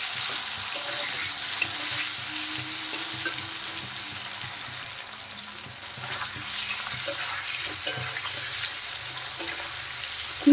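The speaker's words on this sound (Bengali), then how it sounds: "উল্টে পাল্টে ভালো করে পনিরগুলো আমি ভেজে নেব" Paneer pieces fry in hot mustard oil, a steady soft sizzle running throughout with occasional small clinks and scrapes as the pieces are turned, and no one speaking.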